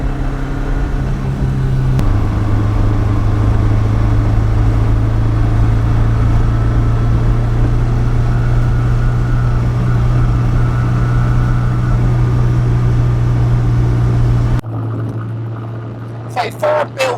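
A Ford RS200 Evo road car's engine drones loud and steady from inside while driving, shifting pitch once early on, then drops to a lower hum near the end.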